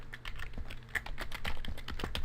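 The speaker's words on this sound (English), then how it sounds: "And I'm just going to type in my email on bold." Close, brisk typing on a computer keyboard as an email address is entered, a rapid run of key clacks with uneven rhythm and no talking.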